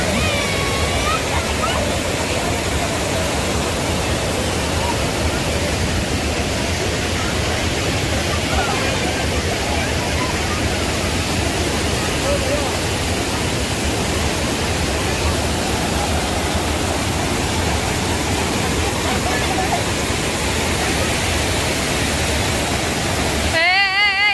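A rain-fed waterfall pours down in a broad, constant roar, loud and close, with no breaks for the whole stretch.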